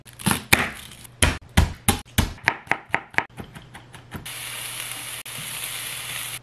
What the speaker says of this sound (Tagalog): Magigisa tayo dyan ng sibuyas,